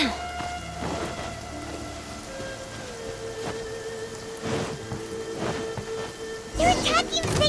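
Steady rain patters with soft rumbles of thunder in the Genshin Impact game world, a continuous wash under faint musical tones, with a sharper louder gust of noise near the end.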